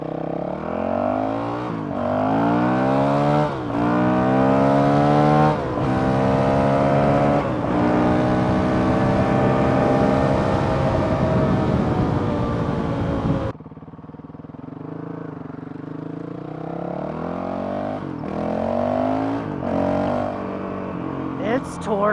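A Honda CRF 450 RL dirt bike with a Taipan AIM ECU, ridden hard at full throttle: repeated loud engine runs that climb through the gears, each shift cutting in sharply, close and continuous, with a rider's voice over it.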